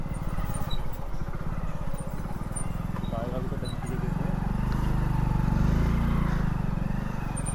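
A Hero Splendor 100cc motorcycle squeezes past a roadblock, its engine putting out a close, steady low thrum that swells a little louder partway through, with the rider talking over it.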